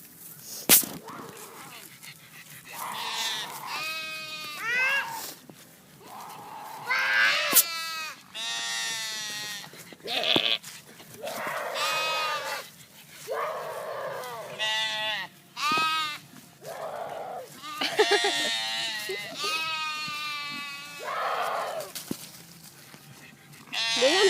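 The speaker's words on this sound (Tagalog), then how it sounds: "Doon ang daming kambing doon." Many goats bleat repeatedly, overlapping wavering cries from several animals fairly close by, with a few sharp knocks between calls and no clear talk.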